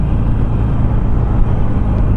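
Steady low engine rumble of a Harley Sportster Classic motorcycle cruising in traffic, loud and continuous with a constant drone and slight variation in throttle, no talk.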